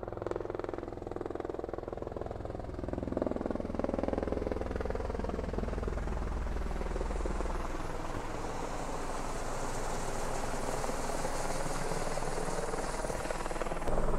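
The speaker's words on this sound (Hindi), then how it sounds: "ये देखिए हेलीकॉप्टर आ रहा है अभी" A helicopter arriving at a helipad, its rotor thumps and engine whine building steadily as it draws nearer, loud and continuous throughout.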